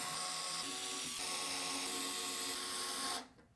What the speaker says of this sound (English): We can then set our new fans onto the radiator, and we'll secure them into place with the original screws.